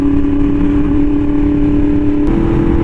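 A Yamaha R1M sport bike fitted with an SC Project exhaust, ridden on scenic roads: a loud, steady engine drone close by that shifts pitch slightly near the end.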